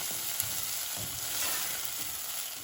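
About a tablespoon of oil fries onions with a soft, steady sizzle, broken by faint stirring touches. It is fairly quiet and close, and no one speaks.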